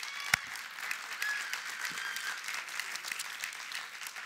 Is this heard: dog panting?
no